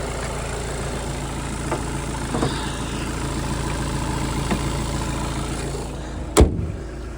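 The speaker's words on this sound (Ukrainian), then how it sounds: "Двигунчик дійсно працює дуже-дуже класно." A 2018 Skoda Octavia A7 1.6 TDI diesel engine idles with a steady low rumble close by, broken near the end by a single sharp knock.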